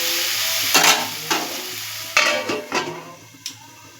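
Grated potato stirred in a hot frying pan, a steady sizzle broken by several distinct scraping stirs and spatula knocks, close and fairly loud, with no voices.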